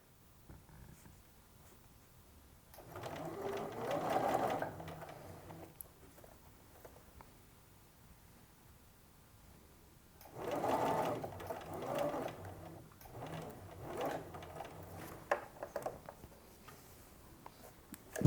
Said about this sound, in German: um das Futter an den Saum anzunähen